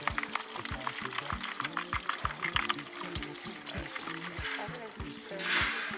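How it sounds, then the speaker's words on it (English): A litre of alcohol pours into a bucket, a steady liquid splash with a trickle running under it. The pour sits low beneath rhythmic mechanical ticking and background voices. "We pour the 1 liter of alcohol into it."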